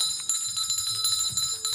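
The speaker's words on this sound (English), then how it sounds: "You know what that bell means?" A bell rings out on a talk show set, a bright sustained metallic tone with steady overtones held through nearly two seconds, fairly loud with no one speaking over it.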